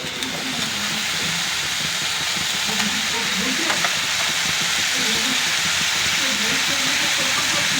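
Tomatoes fry in a pan for a myna bird meat curry, giving a dense, continuous sizzle with bubbling and steam hiss close by, steady and loud throughout.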